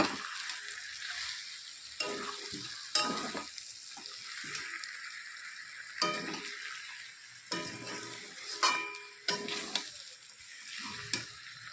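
Spice masala is stir-fried with potatoes and marinated mutton in a pan, producing a continuous sizzle broken by repeated scraping stirs every second or two, close and moderately loud.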